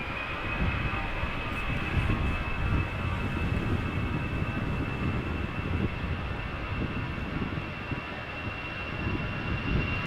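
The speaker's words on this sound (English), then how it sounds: "There is an Airbus, EasyJet Airbus lined up at the moment. And it's moving." An EasyJet Airbus jet rolls on the runway at Amsterdam Schiphol, its engines a steady broad roar with a thin high whine, held at moderate distance with no talking.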